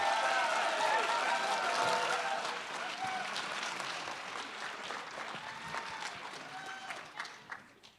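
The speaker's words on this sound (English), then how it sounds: "Can I get a round of applause, please?" A conference audience at a lightning talks session gives a round of applause, loud and full at first, then thinning out and fading to scattered claps near the end.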